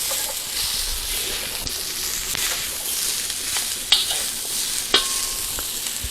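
Broccoli florets and other vegetables sizzle in a pan during a keto stir fry, a steady close crackle broken by a few sharp clinks and scrapes as the food is stirred around, with no talking.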